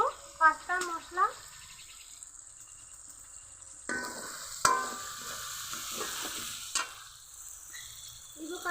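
Onion and tomato frying in a pan with pasta masala, faint intermittent sizzling with spoon-stirring scrapes and small clinks, quiet and close with gaps of near silence, a voice speaking briefly at the start.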